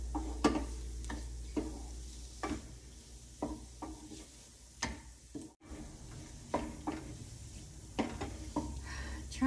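Garlic mushrooms frying in a pan, a soft continuous sizzle broken by repeated sharp scrapes and clicks of a spoon stirring against the metal, close and fairly quiet.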